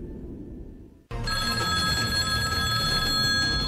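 A telephone rings loudly and steadily, starting abruptly after about a second of low background noise and continuing without a break to the end, with no talk over it.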